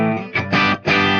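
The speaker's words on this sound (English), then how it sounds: "the amplifier I'm using right now is my PT100 head, and I'm using just a clean channel." An electric guitar played through a PT100 amp head on its clean channel rings out in sustained, harmonically rich chords, with two brief gaps between strums, loud and up close.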